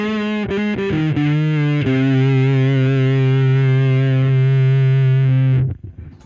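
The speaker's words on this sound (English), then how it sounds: "let's get a Leonids fuzz in parallel with the dry signal." A guitar played through a Leonids fuzz pedal blended in parallel with the dry signal gives a few quick fuzzy notes and then a long sustained buzzing chord that cuts off near the end.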